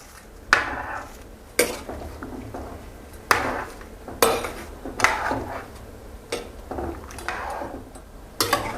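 Shrimp are pressed down into a pot of boiling tom kha soup, with a series of sharp metallic utensil clinks against the pot every second or so over a low bubbling background, close and without speech.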